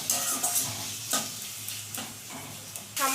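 Ginger, garlic and onion paste being stirred into chicken in a hot pan, with a steady sizzle and frying hiss broken by several scraping stirs of a spatula, close up and with no talking.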